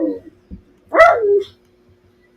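A puppy gives a single short, harmonic bark or yip at close range, with a few soft snuffles before it and quiet gaps around it.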